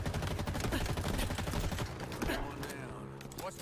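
Rapid bursts of gunfire in Halo Infinite, loud and dense at first, then thinning into scattered shots and mechanical clatter.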